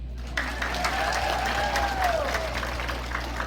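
A crowd claps steadily, a dense patter of applause that starts abruptly and continues evenly, with a faint tone and low hum underneath.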